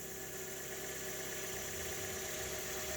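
Fiat 500 with a 1.2 engine idling after a service with new plugs and air cleaner, a steady, continuous, close-up mechanical hum with a faint rhythmic knocking and no talking.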